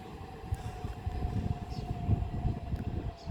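Class 375 electric passenger train 375702 passing at Swanley, a steady close rumble of wheels on track with a faint sustained whine running through the whole pass.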